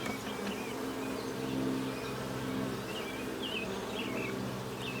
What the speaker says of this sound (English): there's not a whole lot of bees in here